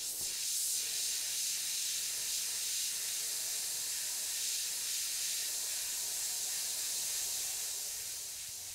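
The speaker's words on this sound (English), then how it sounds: "I'm hitting the edges, spraying over some of my textured areas" An airbrush spraying House of Color orange paint over textured areas of a Tasmanian devil artwork, a continuous close, bright hiss of air and paint holding steady for several seconds before easing slightly.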